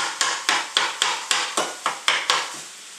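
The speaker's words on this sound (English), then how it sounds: "Got a metal spatula, and all you're doing is browning the ground beef." A metal spatula scrapes and taps a pan while browning ground beef over medium-high heat, about a dozen sharp, evenly spaced strokes close up, each scrape trailing off quickly, with faint sizzling between.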